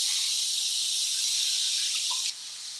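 Water hissing as steam in a hot pan just used for cooking shrimp, a steady broadband sizzle throughout that drops noticeably quieter near the end, with no talking.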